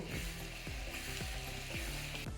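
Chilli, turmeric and cumin powders sautéing in a pan for a Bengali chicken curry, a dense close sizzle with repeated scraping sweeps of a spatula, each stroke rasping across the pan, no voices.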